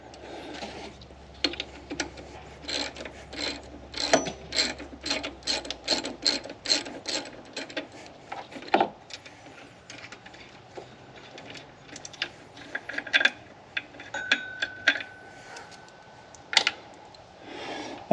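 A ratchet turns out an alternator bolt on a Subaru, with steady repeated close clicking strokes running through the whole stretch and a few louder metallic knocks in between.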